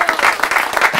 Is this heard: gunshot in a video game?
no